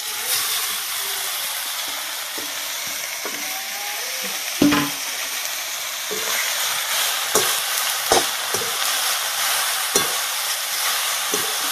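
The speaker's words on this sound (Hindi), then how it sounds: "तो चलिए खुखड़ी डालिए।" Khukhdi mushrooms frying in a wok with onion and garlic, a steady hiss of sizzling oil broken by scraping and clinking knocks as they are stirred, close up and without talking.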